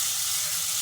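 Potatoes drop into spice paste frying in oil, giving a steady, close hiss of sizzling with no pauses and no voices.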